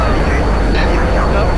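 A jet aircraft in a video game roars past, loud and continuous, a dense engine rush filling the short moment with no break.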